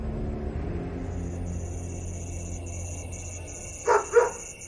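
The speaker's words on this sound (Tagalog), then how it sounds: "Ang alulong ng aso ay naging tahol na lang at parang tunog na nang hihingi ng pagkain." A dog gives two quick barks near the end, short and fairly close, over a steady low background hum.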